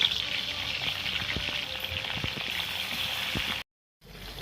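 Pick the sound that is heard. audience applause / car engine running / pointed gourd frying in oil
pointed gourd frying in oil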